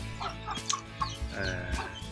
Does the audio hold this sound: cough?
no